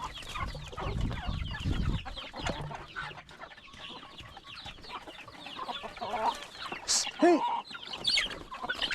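Free-range chickens cluck and chatter nearby on a farm, with occasional louder squawks, while people talk and call out over the flock.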